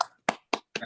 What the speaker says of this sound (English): sort of a round of applause for the presenter